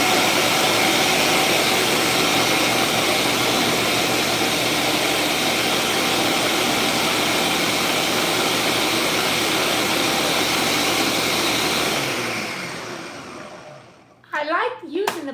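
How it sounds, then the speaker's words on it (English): An electric blender runs loudly and steadily, whirring through a hearts of palm tuna mixture for a long stretch before winding down to a stop, followed by brief talking. "We're going to blend that up"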